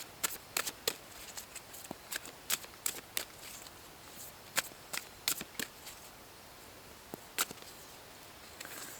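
Tarot cards are shuffled by hand in a quiet room, giving irregular bursts of crisp riffling snaps spread across several seconds with no voices.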